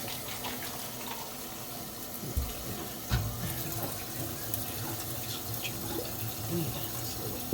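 Clean warm water runs steadily into a trumpet's valve casing, a close continuous trickle and splash with a couple of brief knocks of the brass instrument.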